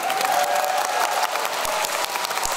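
Steady applause from a live convention audience, dense continuous clapping with no voices standing out.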